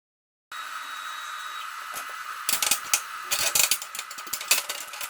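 A Halo Innovations CNC plasma table cuts circles, giving a steady hissing drone joined by bursts of crackling, clattering torch and gantry noise in the latter half. The sound is close and fairly loud, with no voices.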